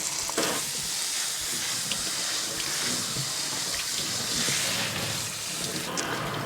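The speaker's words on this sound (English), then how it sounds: "So I'm gonna take 2 cups in my strainer, and same thing, I'm gonna rinse it off." Soaked rice is rinsed in a strainer under a running kitchen tap, producing a steady close hiss of flowing water with light grainy patter throughout.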